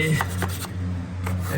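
Drywall corner being sanded with steady rubbing strokes, about three rasping passes heard close against a continuous low hum.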